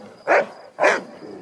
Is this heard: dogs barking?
yes